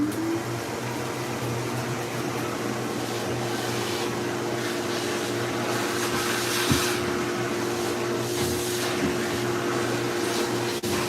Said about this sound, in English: while I vacuum up my helmet